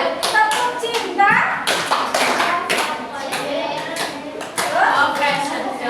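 A group claps the Tepuk cinta hand-clap pattern in irregular bursts of taps and claps, close by, under a mix of voices including children chanting along.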